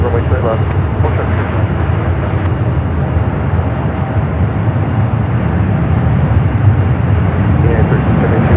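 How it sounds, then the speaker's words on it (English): A Boeing Dreamliner rolls down runway 28 left at San Francisco airport with a loud, continuous engine rumble, while radio voices talk over it. "the Dreamliner now rolling down the 28 left, heading back to Taipei"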